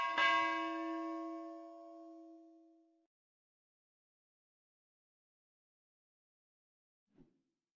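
A notification bell sound effect rings once as a single clear chime and fades away over about three seconds. Silence follows, broken only by a tiny faint tap near the end.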